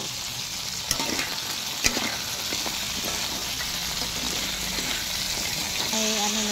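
Crab sizzles loudly in sautéed garlic in a pan, a dense continuous frying hiss with a couple of sharp utensil knocks and stirring noises.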